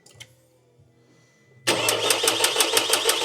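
After a near-silent start, a Vauxhall car engine cranks over to build oil pressure, with a steady, rapid rhythmic chugging that continues loudly to the end.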